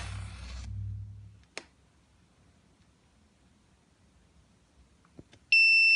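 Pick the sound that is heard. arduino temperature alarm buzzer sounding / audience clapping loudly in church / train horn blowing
arduino temperature alarm buzzer sounding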